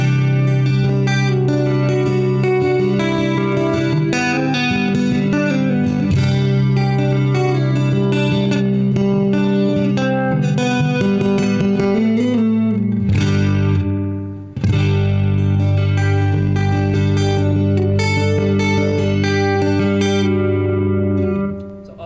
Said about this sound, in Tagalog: ito yung sound niya pag chorus plus reverb